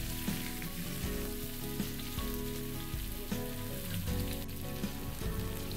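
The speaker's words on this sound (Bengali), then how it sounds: "হালকা হাতে সজনে ডাঁটাগুলোও নেড়ে যেতে হবে।" Drumstick pieces and potatoes frying in a pan for a drumstick and poppy-seed curry, a dense steady sizzle with soft periodic scrapes and thuds of stirring, close and alone.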